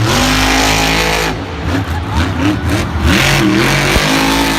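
A monster truck engine roars and revs hard through a Monster Jam freestyle run in Tampa, a loud, continuous throaty drone with surging throttle swells and crowd noise beneath.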